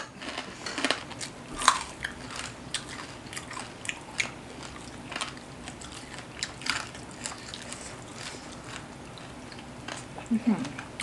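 Crisp crunches and chewing from someone biting into crunchy fried pork with spicy papaya salad, with sharp bites scattered across the clip, close to the mic, while voices talk in between.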